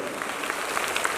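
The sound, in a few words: loud applause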